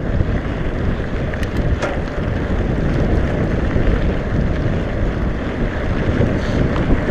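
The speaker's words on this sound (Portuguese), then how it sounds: "porque tá vento contra." Strong wind buffets the microphone on a mountain bike ride into a headwind, a loud, steady roar that stays constant throughout and is broken only by faint clicks, with no talking.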